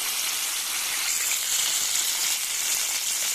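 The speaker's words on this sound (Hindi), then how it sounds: "अब इसको हमने कर दी है साइड चेंज। तो फ्राई करना है आपने।" A KFC-style zinger burger chicken patty deep frying in hot oil, giving off a steady, dense sizzle that stays loud and even throughout, with no voices.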